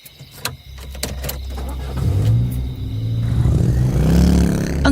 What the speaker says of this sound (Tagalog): Ang sabi ni Tia Sara, habang nakasakay sa kotse niya si Raquel, ay tahimik yon habang nagbabiyahe sila